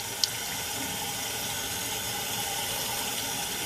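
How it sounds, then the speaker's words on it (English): Warm tap water runs steadily from a faucet into a sink while wool is being rinsed, a constant close hiss with one small clink near the start. "I've just got some warm tap water going"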